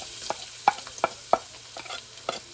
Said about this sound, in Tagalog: Ayan, igisa natin ang ating bawang.